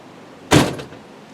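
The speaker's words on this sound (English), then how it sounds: "Open the door." A single sharp mechanical clunk of a Land Rover Defender door latch releasing and opening, brief and close, in an otherwise quiet setting; the door is in very poor condition.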